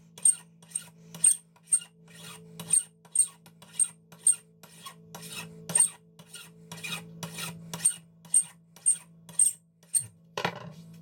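Sandpaper rasping back and forth over aluminum lightsaber hilt threads, about twenty steady rhythmic strokes close up, with a low hum underneath and a short clatter at the end.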